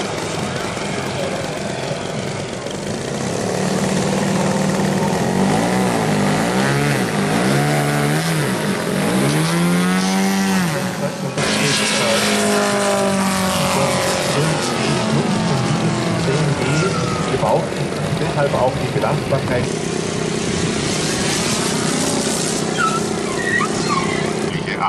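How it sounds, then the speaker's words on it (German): A model airplane's five-cylinder, 250 cc radial engine drones steadily and loudly at an airfield model flight show, its pitch wavering up and down throughout, with a voice speaking over it at times. "Es wird angetrieben von einem Sternmotor, 250 Kubik und 5."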